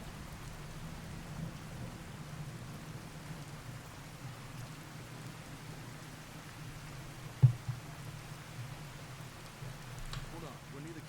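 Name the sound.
rain and thunder in the video game Fallout 4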